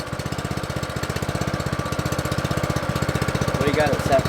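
A Reel Rollers Revolution 26 reel mower engine runs loud and close with a fast, even chugging pulse that stays steady throughout, and a voice is briefly heard near the end.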